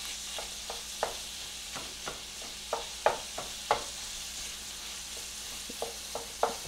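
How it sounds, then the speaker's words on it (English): A bolognese sauce base sautés in a pan, a low steady sizzle broken by repeated sharp spoon taps and scrapes against the pan at an uneven rhythm. "we want this to saute a little bit"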